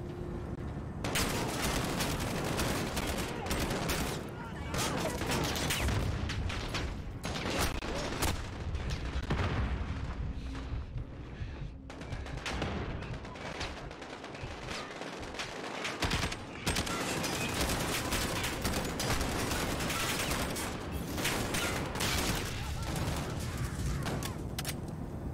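Dense, continuous gunfire from Call of Duty: Modern Warfare (2019), with rapid automatic bursts, booming shots and explosions layered loudly throughout a busy multiplayer firefight, no talk.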